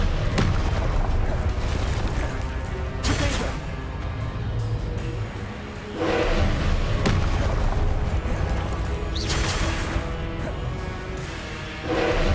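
A Confringo fire spell blasts repeatedly in Hogwarts Legacy, several booming bursts in a row with a steady rumble of game sound between them, loud and close.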